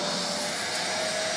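A vacuum cleaner runs steadily in another room while a 2014 Electra Glide motorcycle gets a coolant service, a constant broadband whine with a faint tonal hum, even and unbroken, with no talk.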